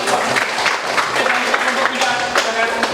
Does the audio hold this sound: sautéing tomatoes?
no